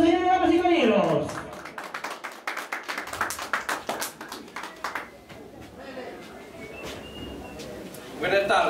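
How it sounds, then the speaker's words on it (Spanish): Audience clapping at a 50th birthday celebration rises after an announcer's voice, a scattered run of hand claps that thins and fades, with voices and a faint bird-like chirp in the background. "¡Lo recibimos con un fuerte aplauso, señores y caballeros!"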